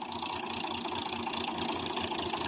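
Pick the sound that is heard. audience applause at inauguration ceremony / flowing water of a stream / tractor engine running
tractor engine running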